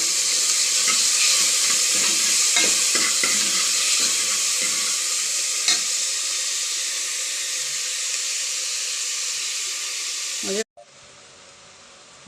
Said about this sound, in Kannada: ಸ್ವಲ್ಪ ಕರಿಬೇವಿನ ಸೊಪ್ಪು, ಒಂದು ಸ್ವಲ್ಪ ಟೊಮೊಟೊ ಹಾಕಿ ಚೆನ್ನಾಗಿ ಫ್ರೈ ಮಾಡೋಣ.